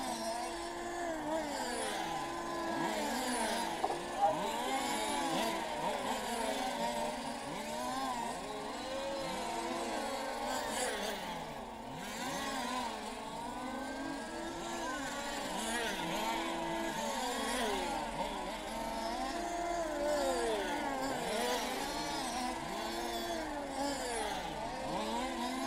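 RC model cars start a qualification race at a track in Luxembourg, with many small engines whining and revving in overlapping rising and falling sweeps, heard from a distance, steady over about half a minute.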